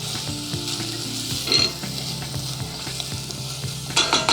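Chopped garlic and shallots fry in a pan, a steady close sizzle broken by scraping stirs and brief clatters of the utensil against the pan.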